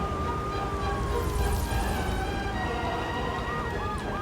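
Wailing police sirens in the video game Grand Theft Auto 3 The Definitive Edition rise and fall continuously over a steady engine rumble, with a second siren warbling in near the end.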